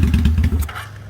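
Kawasaki Vulcan 800 motorcycle being cranked, a rapid pulsing starter-and-engine chug of about six quick beats that stops abruptly, close and fairly loud.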